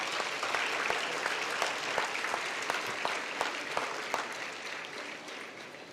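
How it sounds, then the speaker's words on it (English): Steady clapping from an audience honoring awardees at a millennium awards ceremony, a dense continuous patter with a few sharper individual claps standing out throughout. "Big applause for this awardees also."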